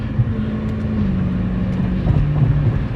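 A Dodge Challenger SRT 392 cruises on the highway with a thin, steady whine riding over a loud, rumbling engine and road drone, close and continuous with no speech.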